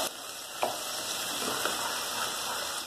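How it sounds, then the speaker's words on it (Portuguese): Chopped onion and garlic sautéing in a pan, a steady close sizzle throughout with a faint clink of a spoon or stirring early on. "vou colocar uma colher bem cheia de cebola picada. Vamos refogar. Deixar tudo bem fritinho."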